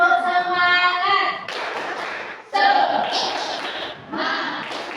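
A group of people claps a rhythmic tepuk semangat pattern in a classroom setting, in quick bursts of hand claps mixed with chanted voices, the sections separated by brief pauses.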